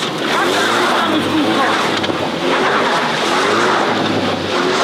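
Car sliding and skidding in a snowy racing video game, a loud continuous roar of engine and tyre noise with a steady hiss running through the whole stretch.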